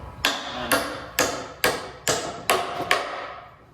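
Steady, ringing hammer strikes driving a nail into a board, seven blows in an even rhythm, close and loud.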